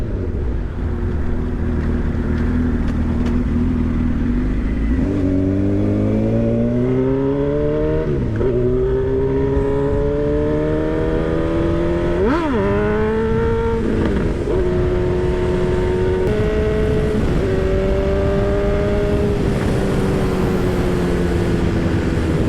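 A Honda CB1000R Hornet motorcycle engine revs repeatedly, its pitch sweeping up and down in a series of throttle blips over a steady loud running note, close and continuous with no talk.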